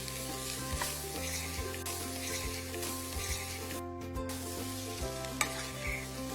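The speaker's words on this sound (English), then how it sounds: "Add everything together and give it a good mix." Pasta being stirred together with sausages and smoky spices in a hot pan, a steady sizzle under repeated scraping and stirring strokes, close and continuous with no talk.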